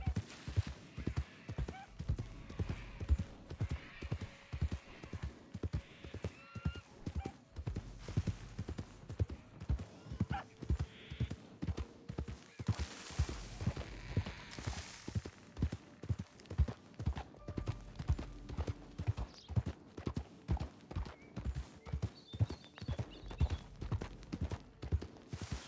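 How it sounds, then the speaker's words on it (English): Horse hooves clip-clop in a role-play video game, a long, even trotting rhythm of hoofbeats that stays moderately close. A faint whinny and a few soft background sounds come through, with no talking. "I heard a horse."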